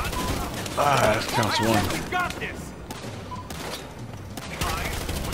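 Heavy gunfire in Battlefield Hardline, sustained rattling shots and bursts over a noisy combat backdrop, with someone talking over part of it.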